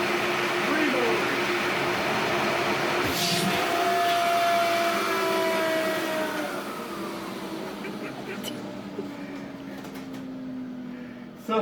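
A Record Power Camvac dust collector roars steadily with three motors running, giving a loud, close whine and rush that fades slightly and shifts pitch toward the end.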